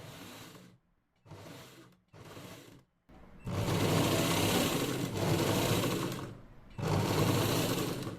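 Sewing machine stitching beadwork with a single foot, a steady whirring hum in five bursts that start short and choppy, then run longer and louder, close and alone without voices.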